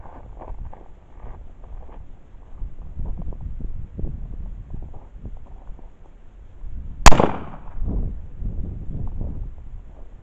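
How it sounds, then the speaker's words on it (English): K31 Swiss rifle firing a reduced powder charge cartridge: a single sharp, light crack with a short decaying tail, loud and near against soft outdoor wind rumble. "Those lower powder charge cartridges, they sound just like a 22."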